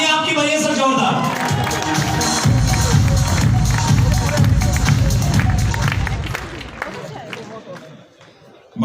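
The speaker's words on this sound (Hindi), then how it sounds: "तालियां आपकी बजाइए सर, जोरदार।" Loud, dense audience applause and cheering fill a crowded hall at a network marketing friends meet, sustained for several seconds before thinning out toward the end.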